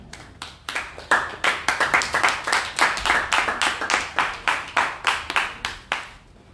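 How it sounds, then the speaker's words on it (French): A church congregation claps in a steady, fast rhythm to acclaim Jesus, with many hands striking together loudly and evenly. The clapping lasts several seconds and then thins out near the end. "Acclame Jésus"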